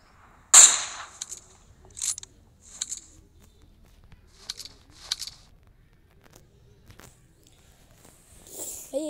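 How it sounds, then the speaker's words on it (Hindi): AWM sniper rifle firing in a mobile shooter game, with one sharp crack followed by several fainter, scattered shots and clicks set against near silence. "ये एडब्ल्यूएम का शॉट पड़ रहा है"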